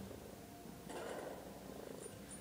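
A cat purrs right beside the microphone indoors, a soft, low, rhythmic rumble with faint higher chirps partway through and no talk.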